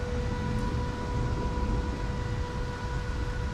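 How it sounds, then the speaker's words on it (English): Cooling fan of a GENMAX GM14000i-HSB standby inverter generator set to propane, a steady whirring drone with faint tonal hum, running continuously and evenly without voices. "You hear the fan."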